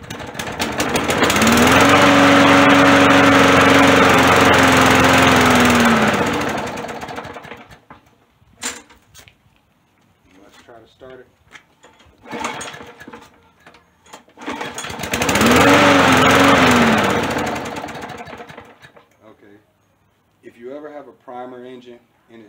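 A free lawn mower, its choke set to the rabbit position and primed, cranks and runs loudly for several seconds, stops, then roars again in a second run, with people talking in the gaps.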